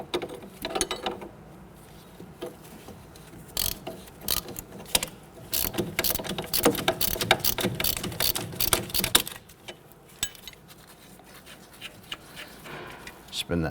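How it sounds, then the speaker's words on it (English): A ratchet working loose a front strut nut on a 2006-2014 Honda Ridgeline, irregular bursts of rapid clicking and metallic rattling up close, pausing between runs, with occasional talk. "We have it on a ratchet."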